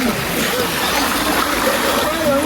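Water splashes and churns steadily as people swim in a pool at a farmhouse, a continuous close wash of sloshing with faint voices underneath.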